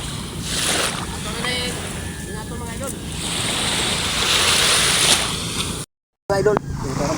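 Sea waves washing near small boats, a broad rushing surf with wind buffeting the microphone, with a brief dropout near the end.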